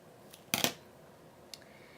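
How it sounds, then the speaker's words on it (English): Scissors snip cardstock while trimming an overhanging edge on a handmade Stampin' Up birthday card, a quick crisp cut of two or three closely spaced snips followed a second later by a lighter single snip, close and otherwise quiet. "So I'm just going to take my scissors again"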